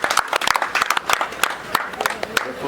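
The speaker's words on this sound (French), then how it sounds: "Sous vos acclamations." Clapping at a press awards ceremony honoring a politician, scattered and uneven claps from a modest crowd with faint voices mixed in.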